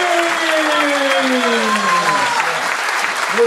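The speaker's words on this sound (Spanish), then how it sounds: "Un aplauso para ustedes." A crowd at a political speech in the industrial park at Sauce Viejo, Santa Fe, claps together in a sustained, close, dense burst of applause lasting a few seconds.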